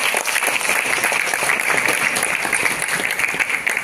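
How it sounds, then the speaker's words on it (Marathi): Steady, sustained applause from a crowd at a film trailer launch, dense clapping with no pauses, moderately loud throughout. "जोरदार टाळ्या"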